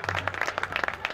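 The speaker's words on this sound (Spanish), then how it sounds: "fuerte el aplauso para Bauti" Concert audience clapping for a band member, a short burst of dense, close applause with rapid irregular claps.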